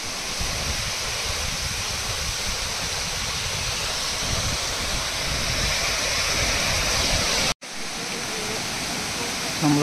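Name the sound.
mountain waterfall on Agasthiyar hill trek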